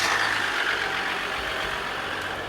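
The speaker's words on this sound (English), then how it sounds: "Nathan, I'm not sure you're gonna hear a lot coming out of a diesel engine." A 2014 Ram 1500 EcoDiesel pickup's diesel engine idles with a steady, fairly loud, even rumble and hum throughout, with no voices.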